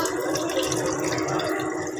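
Water from the first washing of rice drains out in a steady, close pour, a continuous splashing trickle that runs evenly without a break and with no one talking.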